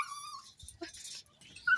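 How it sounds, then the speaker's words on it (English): Dogs at a backyard grill with a storm coming give short, faint, high whimpers and cries in broken bursts, close by against a quiet background. "sorry for the dogs crying"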